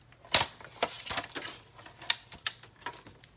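A Stampin' Trimmer paper trimmer slices card for a birthday card, with a sharp snap followed by a series of close, crisp clicks and short scrapes spaced irregularly, and no voices.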